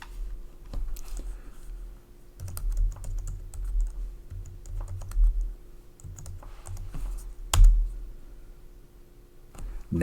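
Someone types an SSH command on a computer keyboard while connecting to an Azure Ubuntu 24.04 Linux virtual machine. Steady, close key clicks run in bursts, with a few louder keystrokes standing out.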